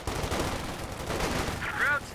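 MG34 machine gun fire in the strategy game Company of Heroes 2, a dense rattle of rapid shots mixed with other battle effects, steady and moderately loud under the mix.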